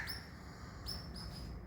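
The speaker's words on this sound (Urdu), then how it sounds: "اوہ اوہ چڑیا بولی ہے" A sparrow gives a few short, high chirps in quick succession, faint against a steady low background hum, with no one talking.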